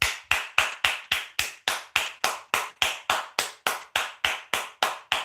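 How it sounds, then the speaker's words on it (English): Steady, regular clapping of a single pair of hands, about three claps per second, loud and close with no talk over it. "You should be giving her a big hand of applause."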